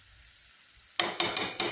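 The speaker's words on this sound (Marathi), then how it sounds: "आता मी कांदा आणि टोमॅटो आपला चांगला भाजलेला आहे त्यामध्ये मी मसाले टाकून घेते" Onion and tomato with spices in a pan start to sizzle abruptly after a near-silent second, then a few quick stirring scrapes cut through the bright frying hiss.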